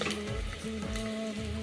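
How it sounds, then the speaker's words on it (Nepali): Onions sizzling in a pan while frying for Nepali-style mutton gravy, a steady crackle with faint clinks of stirring, close and moderate in level with no voices. "प्याज चाहिँ एकदमै राम्रोसँग फ्राई भइसकेको छ"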